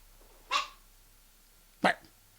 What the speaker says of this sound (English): now he's actually barking